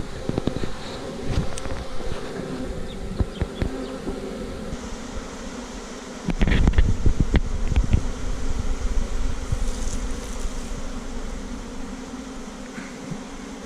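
A swarm of honey bees fans at the entrance of a hive, making a dense, continuous buzzing drone. A louder burst of close buzzing comes midway, and there are faint handling knocks but no speech.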